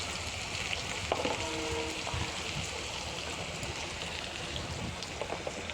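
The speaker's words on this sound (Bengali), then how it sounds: "এবার এর মধ্যে আমি কেটে রাখা টমাটমটা দিয়ে দিলাম" Chopped tomato with turmeric and chili powder sizzles steadily in a hot pan, a continuous close crackling hiss with no voices.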